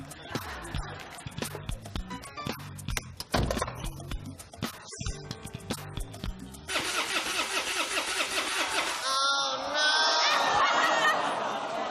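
A car engine cranks and catches on a game-show stage, turning over after scattered stage noise and then running steadily, loud and close, with no talk over it.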